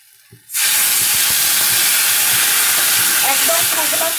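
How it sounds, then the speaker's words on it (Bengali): Eggplant curry frying over a medium flame in a pan and being stirred, a loud steady hiss and sizzle that starts abruptly and continues with faint scraping underneath. "আমি মিডিয়াম ফ্লেমে করেই রেখে দিয়েছি। 2 মিনিট একটু নাড়াচাড়া করে নেব।"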